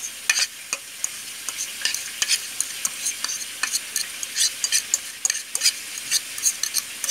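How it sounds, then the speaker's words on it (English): A utensil stirs a honey garlic soy sauce with brown sugar and minced garlic in a bowl, steady scraping and soft clinks repeating at a brisk rhythm, close and fairly quiet. "let's just have it a good mix"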